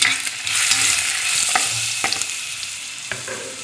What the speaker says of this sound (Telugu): అల్లం వెల్లుల్లి పేస్ట్ వేద్దాము.